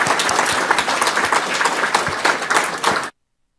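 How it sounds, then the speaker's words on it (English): An audience at a town candidates night applauds the clerk candidates: a steady, dense round of clapping lasting about three seconds, then stopping abruptly. "we can all clap for this clerk candidates"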